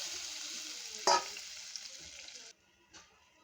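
Onion, garlic, black cumin and red amaranth greens fry in a pan with a bright, continuous sizzle and a single stirring clatter. The sizzle drops away abruptly near the end, leaving a faint hiss.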